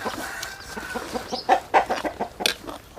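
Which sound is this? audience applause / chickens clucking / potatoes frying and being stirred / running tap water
chickens clucking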